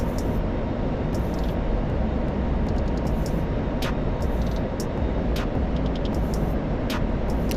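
A jet's afterburner roars in a flight video game as a steady, full-bodied rumble and rush. It holds constant throughout, with brief high electronic blips layered on top.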